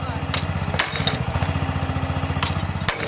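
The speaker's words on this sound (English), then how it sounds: "We've got this drilling equipment brought in, percussive drilling equipment." Percussive drilling equipment pounds away in a park in Bridgnorth, Shropshire, during an archaeological dig: a loud, rapid, machine-gun hammering over an engine drone, pausing briefly between bursts.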